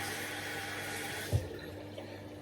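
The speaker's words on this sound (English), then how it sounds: "I'm just going to run the tap," Water running from a bathroom tap into a sink to dampen a face cloth, a steady broadband rush with a brief low thump partway through.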